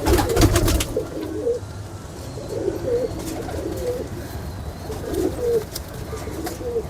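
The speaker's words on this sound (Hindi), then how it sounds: "बहुत मज़ेदार कबूतर है" Pure Kamagar Teddy pigeons cooing in a loft, low throaty rolling coos in several separate bursts over a faint steady background hum, close and moderately loud, with no talking.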